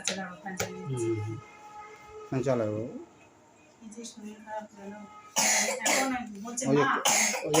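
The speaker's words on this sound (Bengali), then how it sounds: "কাশি হচ্ছে" A sick child coughs several times in short bursts indoors, with voices talking and babbling between and over the coughs.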